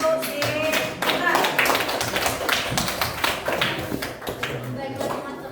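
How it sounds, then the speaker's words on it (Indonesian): Applause from a small group, a patter of hand claps running throughout, with people talking over it. "tepuk tangan"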